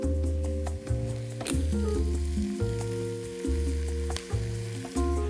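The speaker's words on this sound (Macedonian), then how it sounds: "И ќе оставиме кромидот на оваа средна температура, убаво да си се испржи" Onion frying in oil in a pan at medium heat, a steady close sizzle under a strong tonal hum that cycles on and off.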